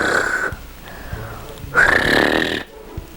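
A voice imitates machine-gun fire by flapping the tongue while forcing air through the mouth, giving rough rattling bursts in two or three separate goes, close and fairly loud with short pauses between.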